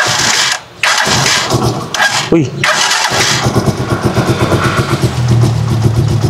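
An engine running on palm oil cranks and catches, then settles into a close, steady idling chug, with someone talking loudly over the start.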